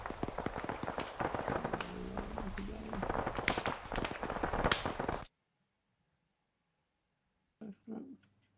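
Rapid bursts of close Arma 3 gunfire crackle densely for about five seconds with voices mixed in, then cut to near silence before a brief faint sound near the end.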